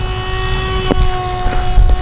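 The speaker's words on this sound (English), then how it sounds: "Let's do a left, full roll left, full throttle." A TOBYRICH Moskito smartphone-controlled toy airplane flies at full throttle outdoors in a light breeze, a thin steady propeller whine with wind buffeting throughout.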